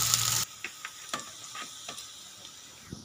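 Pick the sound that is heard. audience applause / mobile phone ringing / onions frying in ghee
onions frying in ghee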